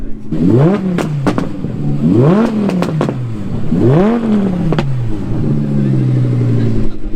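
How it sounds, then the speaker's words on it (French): An Audi R8 V10 at a cars-and-coffee meet revs hard in three rising, sharp throttle blips with crackles between them, then settles into a loud, steady idle nearby. "Le son que lui fait cette R8 V10 c'est incroyable."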